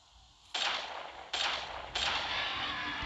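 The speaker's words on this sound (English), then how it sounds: "This rifle really packs a punch." Three loud rifle gunshots from the video game Carnivores Dinosaur Hunter, fired alone at uneven intervals, each a sharp blast that rings on into the next.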